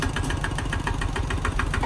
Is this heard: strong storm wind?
no